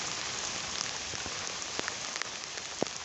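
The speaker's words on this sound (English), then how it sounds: "This is intense, heavy thunder rain right this minute, guys. Just listen to the sound of that." Heavy thunderstorm rain pours steadily in a town in the UK, a dense continuous hiss with sharper drops and splats standing out now and then, with no talking.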